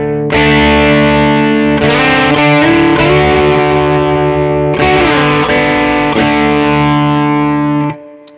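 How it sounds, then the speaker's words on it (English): An electric guitar through a heavy Xotic overdrive pedal, loud sustained chords with a thick, compressed tone, changing chord shapes a few times before cutting off. "You can go from kind of crunchy distortion sounds to sort of more humbuggerish sounds almost."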